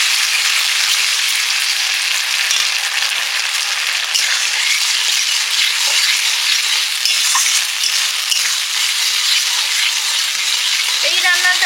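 Capsicum and onion frying in a pan with a mix of green chili, red chili, soy and tomato sauces, a loud steady sizzle running throughout, close and continuous.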